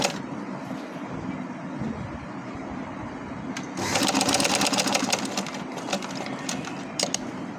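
A sewing machine whirs steadily as it stitches fabric for a girl's frock, the motor drone growing louder and busier partway through with small clicks, close by.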